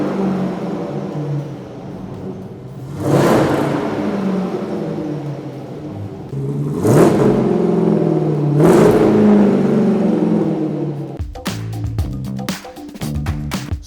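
Modified 500+ bhp Jaguar S-Type R V8 idling with a deep, throaty rumble, revved hard three times in loud rising bursts, then stuttering into a rapid, crackling run of pops near the end, heard up close.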